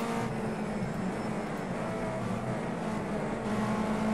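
A race car engine held on the throttle in Project CARS 2 at Bathurst, a steady, loud droning roar with a sustained tone that carries through the whole stretch, no voices.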